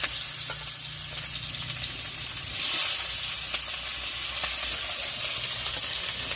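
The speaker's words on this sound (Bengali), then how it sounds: "কড়াটা গরম হয়ে গেছে, আমি পেঁয়াজটা দেবো।" Onions dropped into hot oil in a wok for a village-style fish curry, a loud, steady hissing sizzle that surges partway through and keeps going close up, with no one talking.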